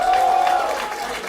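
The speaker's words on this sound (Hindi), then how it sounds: "एक बार मासूम के लिए ताली बजाएंगे" A studio audience on a quiz show gives a short burst of clapping for a contestant, a dense patter that tapers off, with a faint tone running through it.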